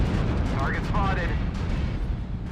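Airstrike explosions in a mech video game make a heavy, continuous rumble of booms and blasts close up, with a voice talking briefly over the barrage.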